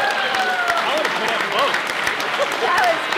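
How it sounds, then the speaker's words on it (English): Applause and cheering from guests at a wedding reception, steady clapping throughout while voices call out over it. "Let's give him a round of applause for being a good sport"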